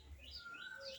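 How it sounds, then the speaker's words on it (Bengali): A cuckoo calls in short, faint, whistled notes rising and falling over a low background hum, heard at a distance for about a second. "এর সাথে আবার কোকিলের ডাক"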